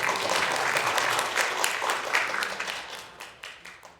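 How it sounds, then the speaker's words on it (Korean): A church congregation claps together to welcome visiting guests, a dense, steady applause that fills the room and thins into scattered claps near the end. "우리 박수로 환영하겠습니다"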